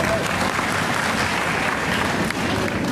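Audience applause during a political speech in Hindi, broad continuous clapping from a crowd at moderate level, steady throughout with a faint murmur mixed in.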